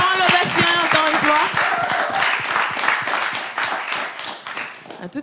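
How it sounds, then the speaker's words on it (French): Audience applauding after a presentation, a dense burst of hand clapping that thins out gradually, with a voice speaking over the start. "Encore une fois, très fort, l'ovation"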